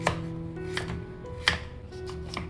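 A knife chops food into small pieces on a board, making a few quiet, spaced thuds over a low hum of room noise.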